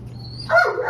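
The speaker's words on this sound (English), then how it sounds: "not impacted by the barking" Dog barking inside an animal shelter: a single short, fairly loud bark bursts out near the end after a quiet stretch with a faint whine.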